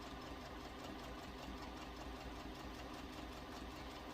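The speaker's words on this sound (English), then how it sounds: "I'm just going to sew right on along there, right along the edge." Sewing machine stitching along the edge of a quilt block appliqué at a small stitch length, a faint steady rapid mechanical hum with fine rhythmic pulsing, heard alone without talk.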